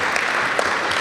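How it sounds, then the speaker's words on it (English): An audience at a satsang gathering claps together in a brief, dense burst of applause that fills the room, with no talk over it. "Give a round of applause to him."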